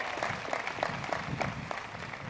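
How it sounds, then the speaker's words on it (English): Steady applause from a commencement ceremony crowd, dense and continuous clapping at moderate volume, heard from some distance without pauses. "Please give your parents and friends and family a round of applause"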